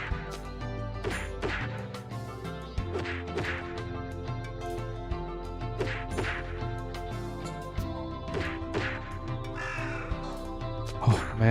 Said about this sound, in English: Freaking bird.